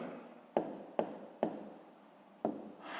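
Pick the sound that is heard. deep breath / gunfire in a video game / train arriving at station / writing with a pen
writing with a pen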